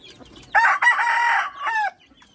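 A single loud rooster crow nearby, a long strained cock-a-doodle-doo that rises, holds and trails off, with faint background noise before it.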